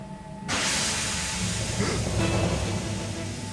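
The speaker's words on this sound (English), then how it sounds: "That sounds like a steam engine. The hiss came again." A sudden, loud hiss of steam bursts out and continues steadily, broad and rushing, with a faint low rumble beneath it.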